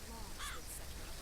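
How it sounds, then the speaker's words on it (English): A crow caws in the video game BioShock Infinite, two short, faint calls in quick succession over a low steady background hum. "oh, bird."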